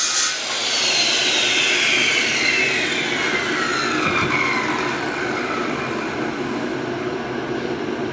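A hand saw cuts a notch for the chine and clamp in the wooden hull of a 23ft Spira Winchester boat, giving a continuous, close, loud rasping drone that runs unbroken throughout.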